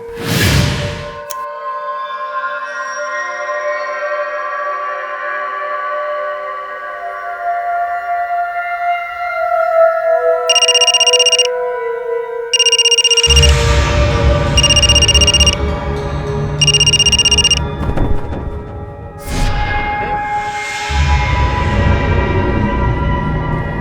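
A mobile phone ringing in a tense crime drama scene, heard as four evenly spaced bursts of a bright electronic ring over a sustained dramatic musical score, with low rumbling tones joining partway through.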